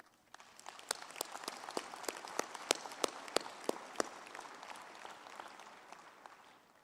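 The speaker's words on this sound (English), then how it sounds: "May we give the graduates a big round of applause." Audience applause at a university graduation ceremony for business and management faculties: moderate, uneven clapping with distinct individual claps standing out near the front, steady throughout without talk.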